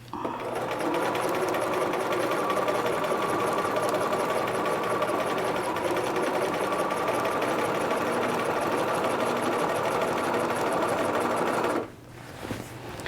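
A sewing machine runs continuously, gathering fabric with a fast, even mechanical chatter for about twelve seconds before slowing and stopping, close and fairly quiet.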